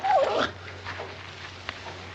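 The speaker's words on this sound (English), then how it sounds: "If you ain't the beatin'est dang dog I ever seen." A dog whimpers in a short, high whine at the start, then quieter snuffling and faint sounds follow, close by and with no talking.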